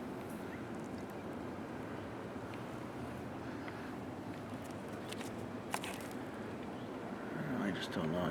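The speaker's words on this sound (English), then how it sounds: "You can hear the wind blowing." Wind blows across snowy ground in Western Massachusetts the day after the Nemo snowstorm: a steady, broad rushing roar throughout, swelling slightly near the end.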